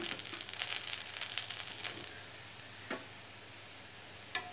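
Wheat flour instant dosa roasts on a hot pan with a soft, steady sizzle, broken by a few faint scraping and crinkling touches as it is turned, fairly quiet and close.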